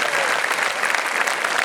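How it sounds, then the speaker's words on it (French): A theatre audience at a stage show gives loud, dense applause, a thick continuous roar of many hands close and full, lasting under two seconds. "Un tonnerre d'applaudissements s'il vous plaît."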